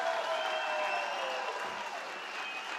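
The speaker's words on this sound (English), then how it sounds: "Let's give her a big, big Experior clap" A crowd applauds steadily throughout, dense clapping at an even level with faint voices mixed in.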